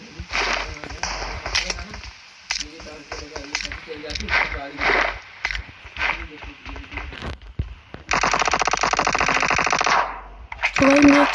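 Rapid bursts of automatic gunfire from a PUBG Mobile match, loud and repeated, with a long sustained volley near the end and someone talking over much of it.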